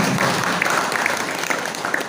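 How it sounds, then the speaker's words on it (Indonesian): Audience members at a traditional healing gathering in Indonesia clap together, a busy, slightly uneven patter of many hands lasting around two seconds with a few sharper individual claps standing out. "Tepuk tangan dulu, ya."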